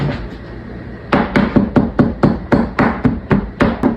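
A knife chopping pollock fillets on a board, a rapid series of about a dozen sharp, evenly paced knocks, close and loud, following a short stretch of quieter kitchen noise.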